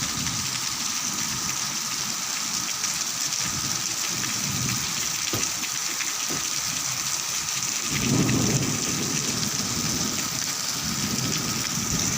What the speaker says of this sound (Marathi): आणि आजचा पहिला पाऊस आहे.